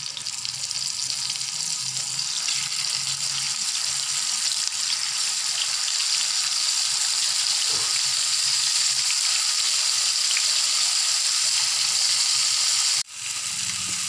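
Tilapia pieces fry in hot oil, giving a steady, loud, broad sizzle and crackle that runs continuously and close up, with no talk.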